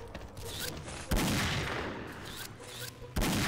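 Gunfire in the online shooter XSHOT, with an AWP sniper rifle in play: loud, dense bursts of rapid shots filling the clip, with sharp onsets and a sustained barrage of battle noise.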